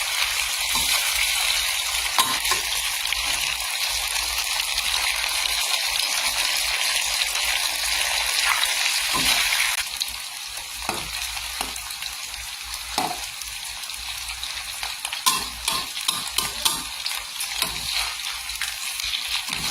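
Marinated pork belly fries in fish sauce in a pan, a steady close sizzle that runs continuously, easing slightly partway through, with occasional crackles and stirring scrapes.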